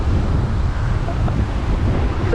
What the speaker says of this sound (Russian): Я жду большую волну.